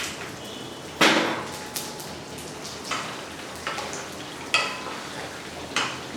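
Groundnuts and mustard seeds frying in hot oil sizzle and crackle, with sharp pops and spatters recurring every second or so over a steady hiss, close up.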